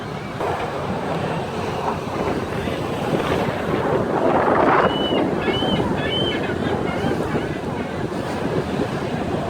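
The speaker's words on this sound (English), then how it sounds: "especially today, there's been some waves out here" Rushing water and waves on Lake Michigan slapping against a boat hull, mixed with heavy wind buffeting the microphone; a few high creaks or bird-like chirps midway.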